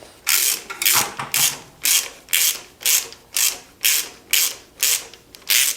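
A hand ratchet snugs the bolts on a Ford 352 FE V8 engine from a 1965 F100 pickup, giving about a dozen steady, evenly spaced rasping clicks close by with no talk.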